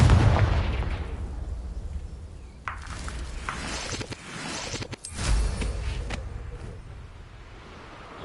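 Spell blasts from the Confringo fire curse in the Hogwarts Legacy video game, two bursts a few seconds apart, each a loud sudden crack that trails off into a rumbling decay over low game ambience.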